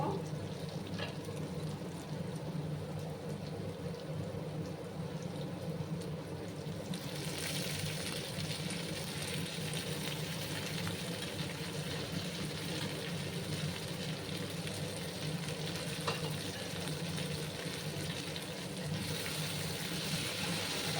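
Spring onion greens and potatoes fry together in a pan, giving a steady, even sizzle that holds throughout and grows a little brighter partway in.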